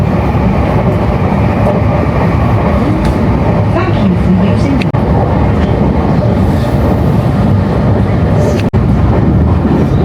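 Steady, loud rumble of a Meitetsu line train running in Nagoya, Japan, heard from inside a car, with faint clicks and a sharp knock near the end.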